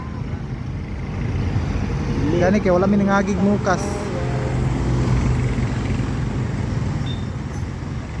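Heavy road traffic crawls across the Panguil Bay Bridge on its opening day, a steady broadband rumble of engines with voices talking over it throughout.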